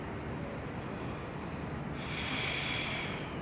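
Slow, steady breathing during a seated yoga flexibility and mobility session, a continuous soft airy rush held under a faint hiss, with a brighter exhale swelling in the second half and no talking.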